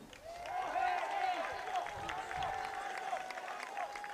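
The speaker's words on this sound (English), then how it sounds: "Let's give all our seniors and their families one final round of applause" Audience applause at a senior night for Dickson at Crossings football, under a loud whistling tone and crowd noise, a sustained wash of clapping in a large space.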